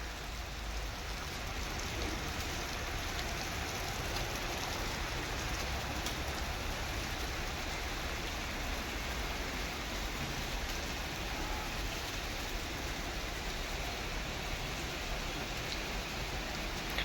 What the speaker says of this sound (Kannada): ಮಳೆ ಹೆಂಗಾಗ್ತದೆ ಅಂದರೆ ಹಾಗೆ ಜಾಸ್ತಿನೂ ಆಗ್ತಿಲ್ಲ ಕಡಿಮೆ ಆಗ್ತಿಲ್ಲ